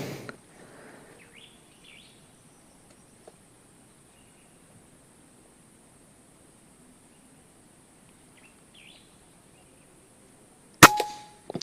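A B-Zad Klein VR-1 air rifle fires once near the end, a single sharp, loud crack in an outdoor setting after a long quiet stretch with faint insect and bird sounds.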